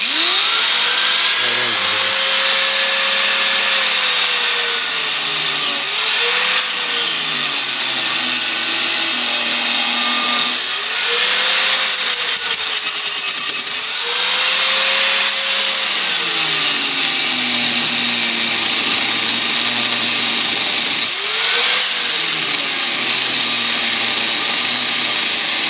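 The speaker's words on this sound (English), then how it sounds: "just get you a cheap Harbor Freight die grinder and chop the thing off" A cheap Harbor Freight die grinder cuts off a sway bar link ball on a 2001 Mazda Protege. The loud, close, continuous whine rises and falls in pitch as the load changes, with brief bursts of grinding contact.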